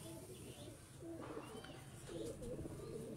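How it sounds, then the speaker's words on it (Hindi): Sialkoti pigeons coo softly and repeatedly in the background, low murmuring calls overlapping over a steady ambient hiss. "बड़े अच्छे सियालकोटी कबूतर हैं, वो दिखाता हूँ आपको"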